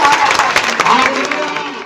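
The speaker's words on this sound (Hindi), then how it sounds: "मैं परमेश्वर के लिए जोरदार तालियों के साथ" Loud applause at a church testimony gathering, a dense wash of clapping from a crowd in a hall that fades a little toward the end.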